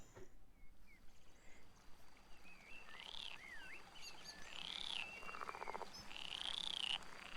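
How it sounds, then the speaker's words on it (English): Faint outdoor woodland ambience from the game Roadwarden, with a steady soft hiss beneath a few warbling, sweeping bird calls that come and go, growing slightly fuller toward the end. "The blue sky is filled with the rustling of trees and the songs of birds."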